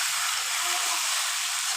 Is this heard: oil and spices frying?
yes